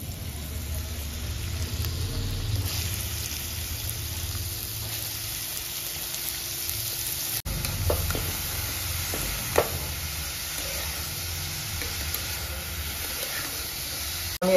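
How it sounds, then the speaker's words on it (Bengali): Bottle gourd pieces frying in hot ghee in a pan, a steady soft sizzle and hiss running throughout with occasional faint stirring clicks, close and continuous with no talking. "ঘিটা গরম হয়ে গেছে, আমি লাউটা ছেড়ে দিচ্ছি।"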